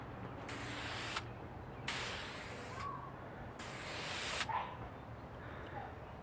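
Three long bursts of aerosol spray paint hiss steadily onto Jeep JK flexible fenders, each burst lasting about a second or more with short pauses between, against quiet background hum.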